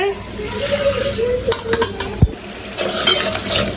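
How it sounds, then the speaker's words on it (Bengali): A spice paste of ground cumin, garlic, turmeric, chili powder and salt fries in a pan with a soft sizzle, while a utensil scrapes and knocks against the metal in short bursts. "মশলা ভাজা ভাজা হয়ে গেছে"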